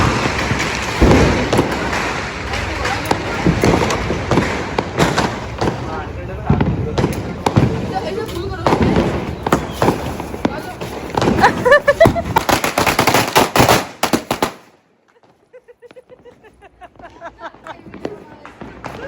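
Rapid crackling bursts of Diwali firecrackers popping in dense clusters, with voices and shouting mixed in, then falling quiet near the end.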